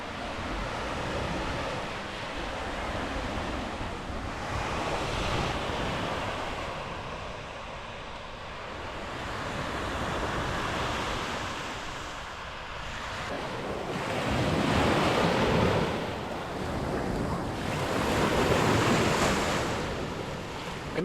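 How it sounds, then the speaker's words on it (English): Waves breaking on the shore at Miners Beach in Pictured Rocks National Lakeshore, with wind buffeting the microphone, a broad rushing wash that swells and recedes in slow surges, fairly distant and steady, with no voices. "After lunch, I made a quick stop at Miners Beach."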